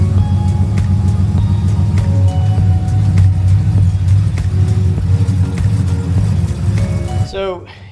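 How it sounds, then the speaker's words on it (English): A Cadillac Escalade's engine rumbles loudly and steadily close by as it pulls away, while a person talks over it before it fades. "I'm gonna get the Escalade out of here, my favorite vehicle that I own."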